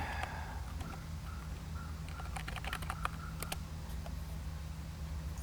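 Quick, light key clicks come in short bursts from a computer keyboard over a low steady background hum, close up, with no talking.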